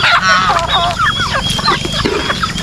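Backyard chickens and turkeys calling close by, a busy jumble of clucks, squawks and gobbling-like cries over a few seconds, with a voice speaking among them.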